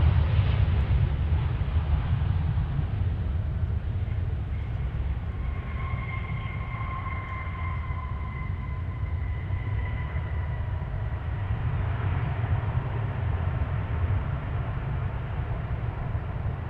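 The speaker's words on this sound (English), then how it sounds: "Checking out this A321 departing." An Airbus A321 airliner departs Dallas Fort Worth airport, its jet engines a loud, steady roar with a low rumble and a faint whine that holds unbroken throughout.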